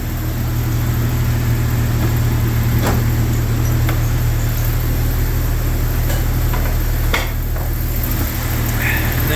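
Rebuilt Jeep XJ engine with a new 62 mm throttle body idling steadily after installation, a loud continuous hum with a few faint clicks and knocks over it.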